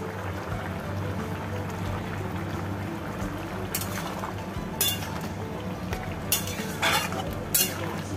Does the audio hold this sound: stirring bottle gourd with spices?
yes